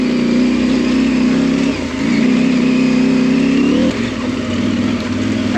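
A motorcycle engine droning loud and steady while riding, with a brief dip in pitch near the start and another later as the rider shifts, steady wind rush over it and no talk.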